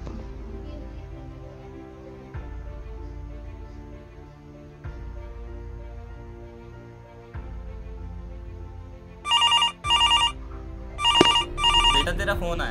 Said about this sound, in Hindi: बेटा तेरा फोन आया।